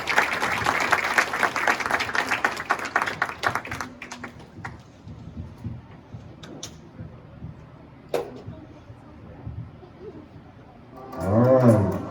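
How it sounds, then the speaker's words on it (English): Audience at a martial arts black belt ceremony applauds for an instructor, a dense clatter of clapping for about four seconds that thins into scattered claps and murmuring, with a burst of cheering or shouts near the end. "let's give Sensei Lexi a round of applause"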